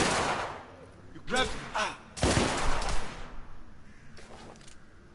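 Gunfire in The Order: Rise of the Lycans video game, several loud close revolver and rifle shots in bursts with echoing tails, while characters shout over the shooting.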